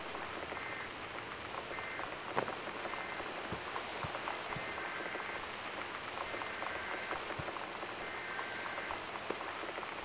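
Torrential rain in the video game Gone Home, a steady dense patter of drops drumming on a surface, continuous and fairly close, with no one talking.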